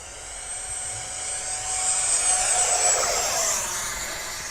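An Arrows Avanti 50mm electric ducted-fan RC jet makes a fast low pass down a runway, a loud high-pitched whine that swells and shifts pitch as it rushes past, with no talk.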